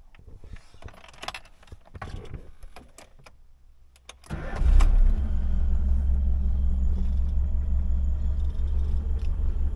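A 1998 Lada Niva is started: after a few seconds of quiet clicks and handling, the engine catches with a loud close rumble and settles into a steady idle that runs to the end.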